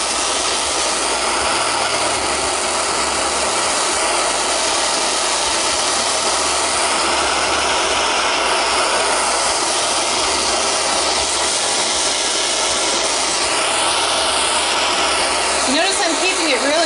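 A torch roars steadily and loudly throughout, heating the bottom of a large metal cuff, a continuous broadband hiss with no pauses.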